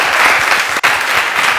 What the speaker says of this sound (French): Applaudissements pour monsieur le ministre.